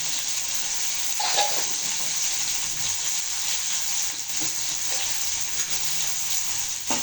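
Curry leaves crackle and sizzle in hot oil while a Chettinad fish kulambu is being made, a steady dense frying hiss with brief sharper pops, close and fairly loud, with no talking.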